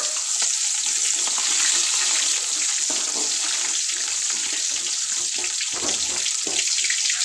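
Onion and curry leaves frying in hot oil give off a steady, loud hiss and crackle that runs unbroken from start to finish, with no voices.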